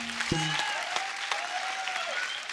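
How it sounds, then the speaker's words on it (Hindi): Studio audience on a Hindi comedy talk show claps steadily throughout, a moderate wash of applause with a sustained whistling tone gliding over it. "जोरदार तालियां मुझे।"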